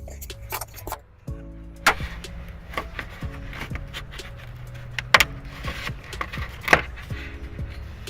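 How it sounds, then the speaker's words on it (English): Plastic trim pieces being pried off inside a 2018 Subaru Outback cargo area with a trim tool, sharp clicks and snaps at irregular intervals over a low steady hum, close and fairly faint. "I'm going to use a trim tool to take off a little plastic piece here and a little plastic piece here"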